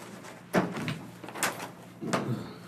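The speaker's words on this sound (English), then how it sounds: "Bill, look out, just I'm gonna close this door" A door being closed in a meeting room, with a few sharp knocks and thuds spread over a couple of seconds, fairly close, with faint room noise between.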